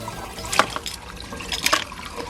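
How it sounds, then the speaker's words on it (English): Water from the filter of a 2000-litre aquarium runs into a bucket, a steady watery trickle with a few louder splashing surges over constant background hiss. "So I just basically just run this water into here"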